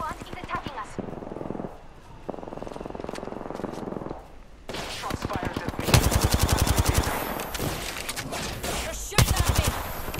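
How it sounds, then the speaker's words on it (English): Gunfire in an Apex Legends match: bursts of rapid automatic shots, quieter at first and then loud, dense sustained firing in the second half. Speech is mixed in underneath. "Shots fired at me. You're shooting me with a shotgun?"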